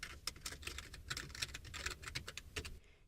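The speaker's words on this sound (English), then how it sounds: "Let's head over to Google and type in My Kindle Reviews." Fingers type on a computer keyboard, a quick, steady run of light clicking keystrokes, close but soft, ending with a brief pause.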